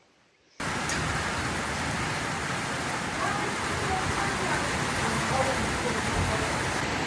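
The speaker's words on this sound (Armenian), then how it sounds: "Աշխարհի ամենասիրուն անձրևն է" After a brief quiet moment, a steady, dense downpour starts abruptly and continues evenly, a full wash of rain close and loud.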